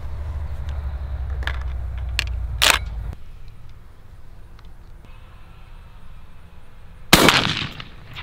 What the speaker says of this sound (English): I'm gonna shoot another shell of heavy metal 3-inch four shot at 30 yards.